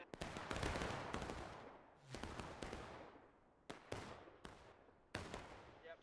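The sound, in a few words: musket gunfire in War of Rights (video game)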